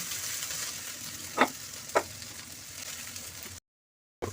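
Soya chunks frying in hot oil, a steady close sizzle with two sharp clinks of a utensil against the pan, then a brief silence.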